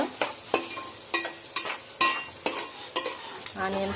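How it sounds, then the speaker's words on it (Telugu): Onion pieces frying in a pan for fish pulusu, with a spatula scraping and knocking in a quick regular rhythm of about eight strokes over a soft sizzle, close and clear with no talking. "ఇదిగోండి ఉల్లిపాయ ముక్కలు మొత్తం వేగిపోయినాయి శుభ్రంగా"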